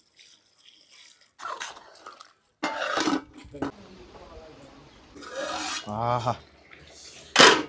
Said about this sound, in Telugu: చూడండి ఎట్ట ఉడుకుతుందో